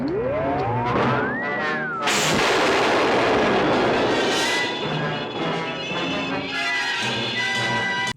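Robots in Lost in Space fire their weapons at a force field: a rising electronic whine gives way to loud, sustained, booming blasts that roar on continuously.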